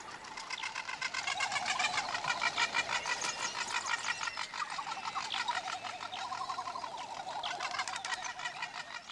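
Seabirds such as frigate or man-of-war birds call in a dense, continuous chorus of many overlapping harsh cries, steady and fairly loud, with no speech.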